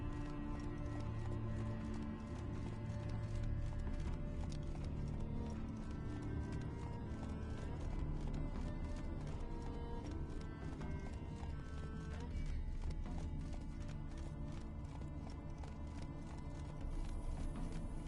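Roach the horse galloping in The Witcher 3, a continuous rapid clip-clop of hooves with occasional snorts and whinnies, heard over a music score.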